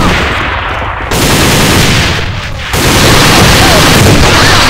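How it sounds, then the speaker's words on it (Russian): Loud, close gunfire and a grenade blast erupt in the A.V.A. (Alliance of Valiant Arms) shooter, with dense bursts of shots filling the clip and a heavy boom breaking through. "Граната!"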